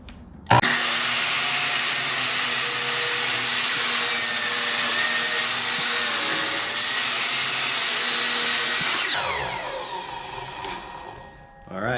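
Power saw making a quick trim cut through a hardwood board, a loud steady whine that starts abruptly, holds for about eight seconds, then spins down.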